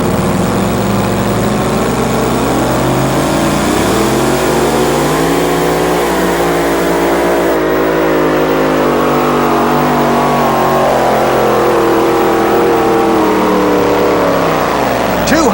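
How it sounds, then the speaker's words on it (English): A 1970 El Camino tractor-pulling truck, the Blue Knight, revs loud and close at an outdoor pull, its engine pitch climbing and falling in long sweeps before a roaring full-throttle run. "the Blue Knight, a 1970 El Camino driven by Dick McPherson of Cambridge, Ohio."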